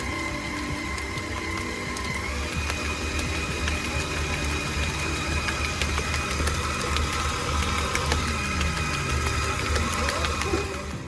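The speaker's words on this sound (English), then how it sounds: "now we're just blending it" A blender whirs continuously as it mixes pumpkin cheesecake batter, a steady, fairly loud motor drone with a grinding edge that holds evenly and drops off right at the end.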